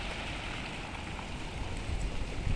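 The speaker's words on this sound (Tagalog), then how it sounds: "Maulan guys dito sa Hong Kong ngayon." Steady rain falls in Hong Kong at a lake in Fairview Park, a dense continuous hiss of drops on surfaces with no voices.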